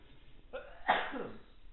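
A single sharp sneeze bursts out close to the mic after a brief intake of breath, with quiet room noise around it.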